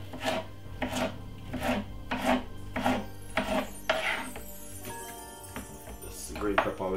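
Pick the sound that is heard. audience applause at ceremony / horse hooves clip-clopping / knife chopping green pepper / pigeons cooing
knife chopping green pepper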